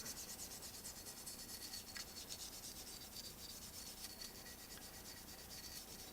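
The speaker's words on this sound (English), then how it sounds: "Take a brush, get in there and scrub it out." Steady brush scrubbing inside the slide channel of a Beretta 92FS pistol during cleaning, a continuous close, faint rubbing hiss lasting throughout with no talk.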